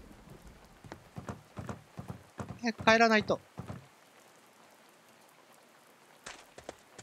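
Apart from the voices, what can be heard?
rain in A Space for the Unbound video game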